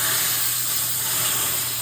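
Hot tempering hisses and sizzles steadily as it is poured directly onto Gujarati kadhi. The sizzle is loud and close and continues without a break, with no talking.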